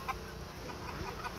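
A Sureño fighting cock, a rooster, gives faint, brief clucking sounds close by amid low background noise, with no voices over them.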